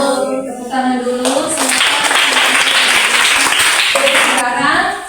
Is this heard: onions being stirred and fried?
no